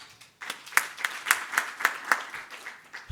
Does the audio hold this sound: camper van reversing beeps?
no